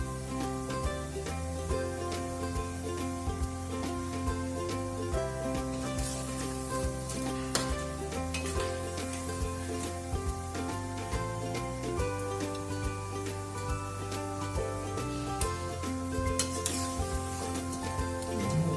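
Muthiya dumplings deep frying in hot oil, a continuous dense sizzle and crackle heard close and steady throughout, with faint background music.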